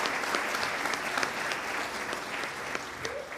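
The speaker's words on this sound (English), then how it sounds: "Can we show our appreciation for Coach Briggs with a warm Georgetown College welcome?" A college audience gives Coach Briggs a warm welcome with sustained applause, a dense, even clatter of many hands clapping across a hall with no pauses.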